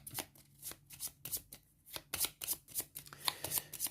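Stellarion nebula cards being shuffled by hand for a solo board game, a rapid close series of crisp riffling bursts and soft slaps in an uneven rhythm, with no talking.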